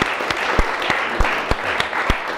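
An audience claps at a live show, a broad wash of applause punctuated by several sharp, distinct individual claps standing out near the mic at uneven intervals.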